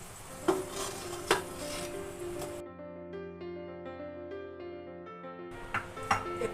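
Potatoes fry in hot oil in a pan for biryani, sizzling steadily with a few sharp clinks of a utensil against the pan, broken by a stretch of sustained tonal ringing before the frying returns.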